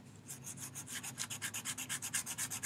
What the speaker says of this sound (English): Rubbing the chalk. I like to go back over it, make sure I have lots and lots of powder.